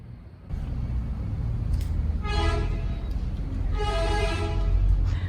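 Road traffic rumbles past a roadside walkway in Praiano on the Amalfi coast, a continuous close engine wash broken by two sustained vehicle horn blasts.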